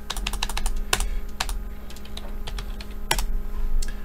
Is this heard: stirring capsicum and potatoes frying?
no